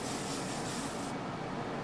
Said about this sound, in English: you take the little container, you spray it